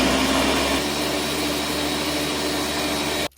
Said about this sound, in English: Blend it well and strain it in the same bowl.